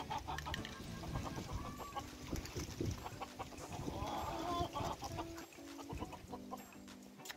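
Several chickens cluck and squawk close by a coop in a busy, continuous chorus, with strong gusty wind noise running underneath.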